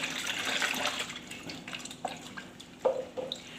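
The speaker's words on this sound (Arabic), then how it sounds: "ننزل عليها بقى بالميه ندوبها كويس" Water is poured onto a carpet for cleaning, a hissing splash followed by a few distinct drips and small sloshes, close up with no talking.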